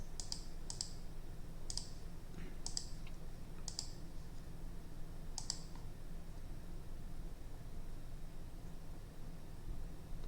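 Mouse clicks picked out in an online bridge-style card game, several sharp, light clicks spaced irregularly over a steady low hum, close and fairly quiet.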